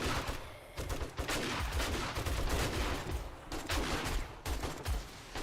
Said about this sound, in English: I love the M60 here, everybody. It just mows them down.